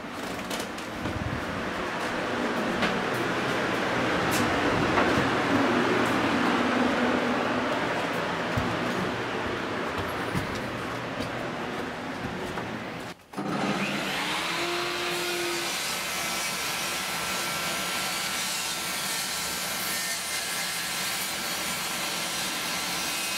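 A handheld power saw whines loudly as it cuts freehand along a slightly curved scribe line on the edge of a board for a dining room built-in cabinet, stopping briefly and then starting again with a steadier tone.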